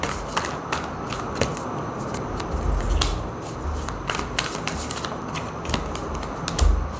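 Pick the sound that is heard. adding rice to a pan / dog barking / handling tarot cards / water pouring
handling tarot cards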